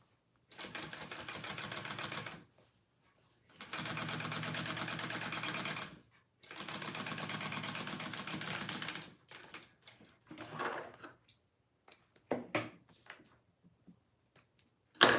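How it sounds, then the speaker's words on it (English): A sewing machine top stitches a handmade Marilyn wallet in three long, steady bursts of close whirring separated by brief pauses, followed by scattered clicks and handling noises. "And then I just need to top stitch that"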